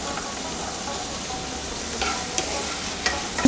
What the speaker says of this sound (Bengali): এবার এর মধ্যে পেঁয়াজ কলিটা দিয়ে দিচ্ছি।